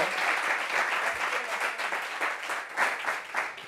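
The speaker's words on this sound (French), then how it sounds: "Est-ce que vous pouvez encore applaudir et vous applaudir vous-même?" A TV studio audience applauds steadily, a dense wash of many hands clapping at once, sustained and fairly close throughout.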